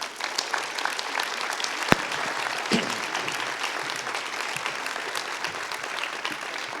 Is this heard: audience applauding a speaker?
yes